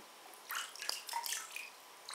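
Water trickling and dripping onto a color-changing Frozen Anna doll, a few quiet splashes and drips close by, soft and brief, with no voices.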